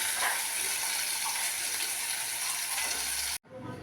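Bitter gourd slices frying in oil in a pan until browned, a steady close hiss and sizzle that cuts off abruptly near the end, with no talking.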